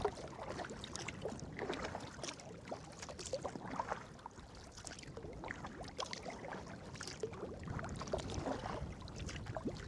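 Kayak paddling on open sea water off the Irish coast, with steady splashing strokes and sloshing water under light wind noise throughout, fairly close and continuous.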